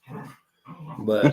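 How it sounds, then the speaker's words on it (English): Two dogs, Boudreaux and Penny, wrestling playfully: short yips, growly barks and whimpers come in bursts around a voice speaking, with a brief silence between bursts and a louder cluster at the end. "if you can hear dogs fighting in the background, they're not fighting; they're just wrestling"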